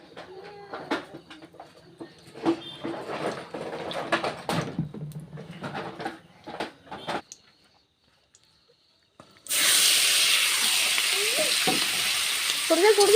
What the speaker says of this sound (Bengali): কড়াইটা ভালোভাবে গরম হয়েছে, তারপরে মাংসটা তুলে দিলাম